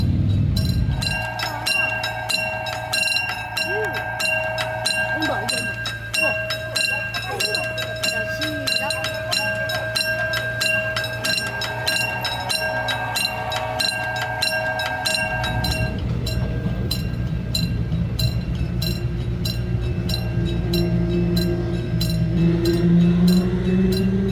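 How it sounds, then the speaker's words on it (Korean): Train pulling away from a temporary station platform, a steady loud rumble of wagons with tonal motor whine and faint clacking, growing heavier toward the end. "첫 번째 열차가 떠났습니다."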